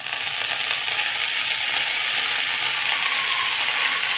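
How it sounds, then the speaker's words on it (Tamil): Coriander leaves sautéing in hot oil in a home kitchen, a steady bright sizzle that holds evenly for several seconds, close and fairly loud, with no voices. "இப்போ நம்ம இதே எண்ணெயில் இந்த கொத்தமல்லியை நம்ம வதக்கி எடுத்துக்கலாங்க"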